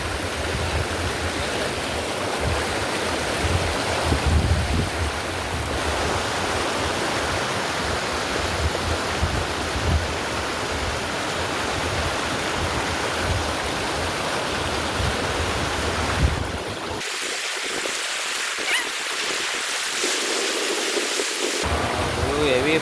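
Constant roar of rushing stream water, loud and close, with faint voices mixed in; the rush drops briefly before returning.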